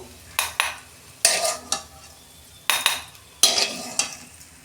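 Chopped onion frying in oil in a pan, a close sizzle punctuated by sharp, repeated scraping and clanking strokes of a spoon against the metal, coming in short bursts with no voices.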